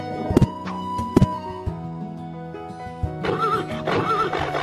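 A black horse in the farming game Harvest Moon: Hero of Leaf Valley gives loud whinnies, two sharp neighs early followed by a thud, then a longer wavering whinny near the end, with no talk.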